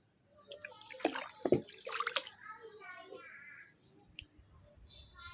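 Water is poured from a container onto potted plants, splashing and trickling in bursts while a person talks over it.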